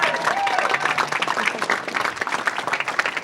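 Audience applause at a speedrunning charity event's Super Mario 64 finale, a dense, steady burst of many hands clapping across the room, fairly loud and continuous, with some voices mixed into the crowd.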